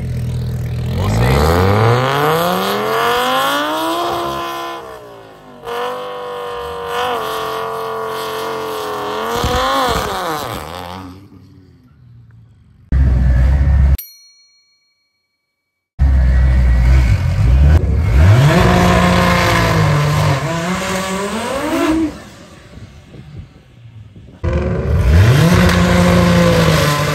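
Kyle's Rada shop drift car revving hard on its first test hit at a DCT World Cup event, loud engine climbing and falling through repeated pulls, cutting out briefly before roaring back, close and sustained.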